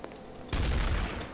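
Gunfire in the video game Garry's Mod, Trouble in Terrorist Town mode, bursting in suddenly after quiet as a loud, dense volley of shots that trails off slightly, with no talk.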